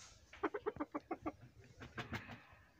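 Chickens in a small backyard coop, a rooster with hens, cluck in a quick rhythmic run of about eight calls, followed by looser, softer clucking, faint and close.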